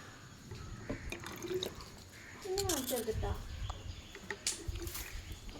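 A mint lime drink with goli soda is poured, liquid splashing and trickling into a glass for a few seconds, with voices faintly in the background.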